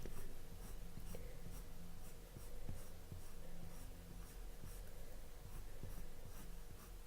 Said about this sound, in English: I'm just going to lay down this light colour over the top of that